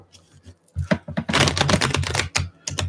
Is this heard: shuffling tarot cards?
yes